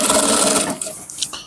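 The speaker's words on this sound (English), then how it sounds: "So you must stitch it at that tip where the lining is." A sewing machine stitches the lining of an Ankara trouser in a short, rasping run that fades and stops partway through, leaving a few faint clicks after.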